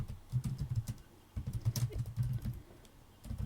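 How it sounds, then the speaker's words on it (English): Rapid clicking keystrokes on a computer keyboard, typed in close bursts separated by brief pauses, with no voices. "So you could type out the whole thing"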